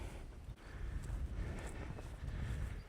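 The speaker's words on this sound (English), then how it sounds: "It's windy." Low, rumbling wind buffets the microphone in steady gusts, a muffled roar with no voices.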